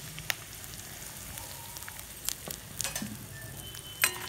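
Curry leaves and asafoetida crackle in hot oil for a mint-garlic chutney tempering, a quiet steady sizzle broken by scattered pops and a sharper burst near the end.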